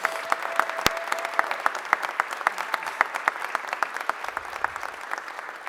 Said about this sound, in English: Give Donna a round of applause.